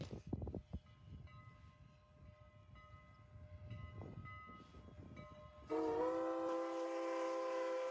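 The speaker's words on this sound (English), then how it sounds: "As the train goes by." Train rolling past in Lancaster, PA, a low rumble of wheels and cars followed by a loud, sustained horn blast that rings out near the end.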